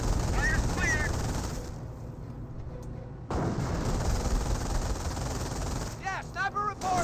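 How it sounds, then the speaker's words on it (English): MG-42 machine gun fire in Company of Heroes rattles in steady bursts with mixed battle noise and distant shots, loud and dense, while voices talk over parts of it. "the MG-42 does suppress it and force it back"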